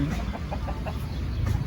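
Black hens clucking on a rural farm, a steady murmur of soft, repeated clucks with a few louder calls, fairly close, under constant low background noise.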